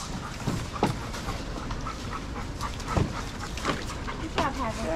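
Dogs at a daycare make a few short barks and yips, with panting and whimpers in between, over a busy indoor background while people talk nearby.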